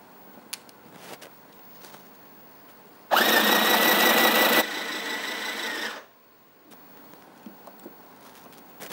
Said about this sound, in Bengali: প্রথমে আমরা যে কর্নারগুলো তৈরি হয়েছে সেগুলো আগে সেলাই করে নেব।